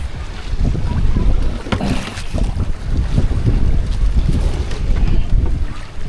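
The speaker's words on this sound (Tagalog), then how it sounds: "Ang hirap pagka ano, malakas ang hangin." Strong wind buffets a boat at sea, a steady loud roar of gusts and microphone wind noise with water sloshing against the hull, continuous for several seconds with no talking.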